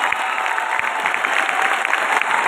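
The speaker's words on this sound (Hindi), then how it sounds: "एक बार जोरदार तालियां बजा दें" Loud, sustained applause from an audience at a speech event, a continuous dense wash of clapping with crowd noise throughout.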